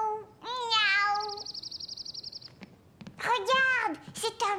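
A voice imitates a cat, drawing out two high, wavering meows with a warbling trill between them.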